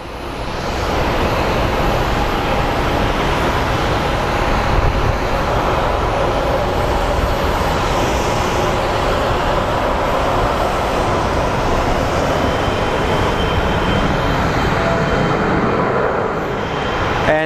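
SkyWest regional jet departing Phoenix Sky Harbor International Airport, bound for Durango: a loud, steady broadband engine roar that holds nearly constant for the whole stretch, close and continuous with no talking.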